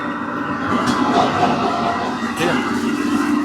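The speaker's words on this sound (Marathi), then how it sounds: "हे समोर जे तुम्हाला दिसते ते फुगेवाडी मेट्रो स्टेशन आहे आणि इथून अशी मेट्रो जाते" Metro train rumbling past near Phugewadi metro station, a steady mid-distance roar with faint rail clatter that holds for several seconds among outdoor street noise.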